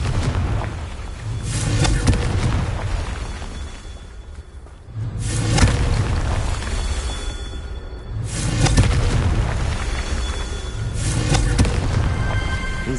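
Confringo fire spell blasts in the Hogwarts Legacy video game, several booming whooshing explosions in a loose repeating rhythm, loud and close, with rumbling tails between them.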